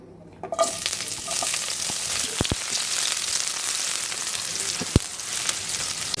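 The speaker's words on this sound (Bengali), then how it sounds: "এবার পেঁয়াজ কুচি দিয়ে দিলাম।" Chopped onion hits hot oil in a wok, starting a close, steady sizzle with occasional stirring knocks, with no talking.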